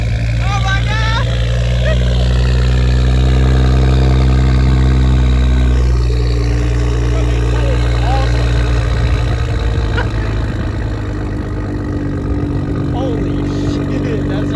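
A modified Nissan Z with a downpipe exhaust idles loudly nearby, a deep steady rumble holding throughout while people exclaim and talk over it.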